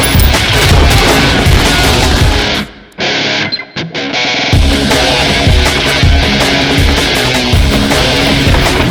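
Loud, heavily distorted pyrotechnic bangs and explosions on a film set roar almost without pause, the racket cutting out briefly for about a second before the booming barrage resumes at full intensity.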